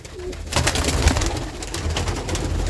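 Mother pigeon of a racing pigeon coos in a loft, soft repeated low coos close by amid rustling and background noise, with no talk.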